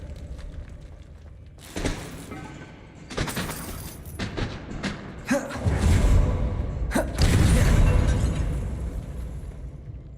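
Depulso force spells in Hogwarts Legacy: a series of sharp impact cracks and whooshes, spaced out at first, then building into heavier rumbling bursts and a deep boom, over moderate game background.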